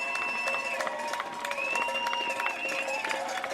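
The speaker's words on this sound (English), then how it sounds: "good round of applause for our seniors" A crowd at a high school varsity playoff football game applauds the Cashton seniors as they run out onto the field, with cheering and steady clapping heard from a distance across the stadium.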